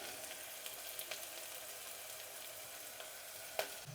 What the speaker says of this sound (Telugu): ఇప్పుడు ఇది వేగుతూ ఉంటుంది.